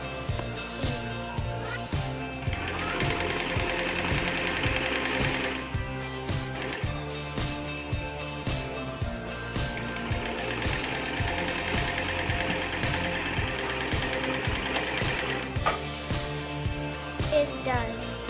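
A sewing machine stitches shirt sleeves with a rapid, steady mechanical chatter that runs throughout, under a continuous tonal background.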